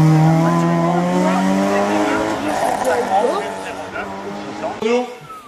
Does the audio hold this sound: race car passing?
yes